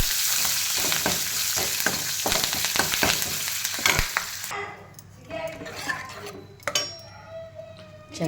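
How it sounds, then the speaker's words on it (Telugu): Ginger, curry leaves, and dried and green chillies fry in hot oil for a tempering, crackling in a loud, dense sizzle that thins out after a few seconds into softer spitting with scattered utensil clinks. "అలాగే అల్లం, కరివేపాకు, ఎండుమిర్చి, పచ్చిమిర్చి పోపులు వేసేస్తాం."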